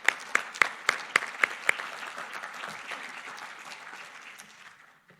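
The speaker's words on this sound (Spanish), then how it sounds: "Un fuerte aplauso para ella." Audience at an international seminar on circular economy applauding, opening with a few sharp, distinct claps in quick succession that blend into a softer, fading ripple of clapping.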